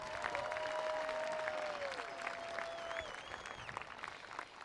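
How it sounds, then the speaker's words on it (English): A crowd applauds steadily at a high school graduation ceremony. The clapping is distant and fairly quiet, with a few faint whistles over it, and it thins out toward the end. "Let's give your parents a round of applause"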